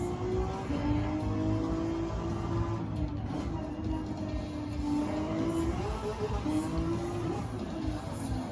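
A car engine revs and drones continuously in a driving video game, a moderately faint, steady hum whose pitch rises and falls slightly throughout.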